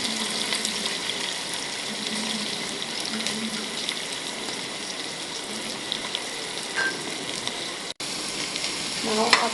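Chopped onion with split and green chilies sautéing in a pan for veg biryani: a continuous, moderate sizzle that breaks off briefly near the end, then resumes.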